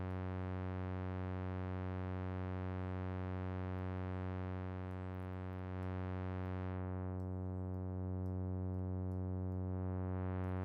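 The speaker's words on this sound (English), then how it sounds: "So we are getting some distortion sounds." Distorted custom synth bass drone with dense buzzing overtones, held steady and loud for the whole stretch with only a slight dip midway, no voices.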